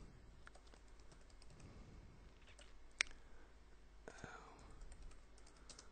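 Someone types a file name on a computer keyboard in a quiet room, with soft, irregular key clicks and one sharper tap.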